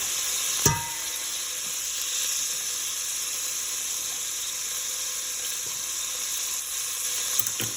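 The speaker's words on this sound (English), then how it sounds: "So I'm just going to add my minced garlic." Minced garlic sizzles steadily in melted fat in a pot, a soft continuous frying hiss with a brief clatter near the start.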